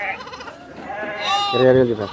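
Several sheep bleat in wavering, nasal cries, one loud and close near the end, over a busy background of people talking at a livestock market in Gudur, India.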